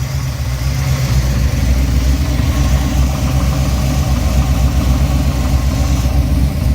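A Buick 455 Stage-1 V8 idles steadily up close, a loud, even low rumble with a faint ticking puff from a bad exhaust leak, running alone without talk.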